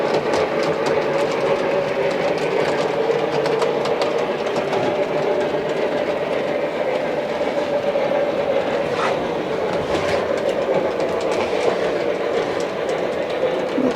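A model train engine runs along a layout track with a steady, continuous electric whirr and fine rhythmic clicking, close and even for the whole stretch with no talk.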